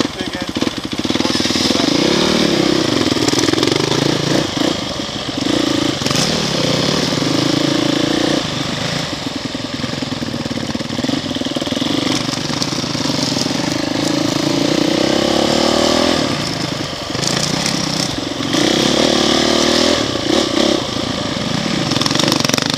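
Small engine idling roughly and unevenly throughout on a Billy Goat ride, loud and close, with a brief sag as it falters near the middle and people talking over it.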